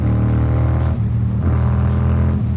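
A car speeding up alongside a motorbike, a loud close engine drone rising in pitch with gear-like shifts, steady and continuous.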